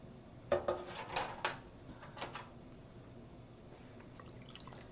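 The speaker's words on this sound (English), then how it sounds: "oh my gosh, this is just dripping so much" Liquid from freshly dyed yarn dripping into a pan, heard as a cluster of soft drips and small splashes early on that thin out to scattered faint taps over a quiet background.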